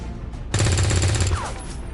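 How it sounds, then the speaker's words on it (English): A short, loud burst of rapid gunfire from a soldier's weapon in XCOM 2 rings out for under a second, then tails off into quieter ambience. "Only to hit the sectoid, so I might as well just shoot."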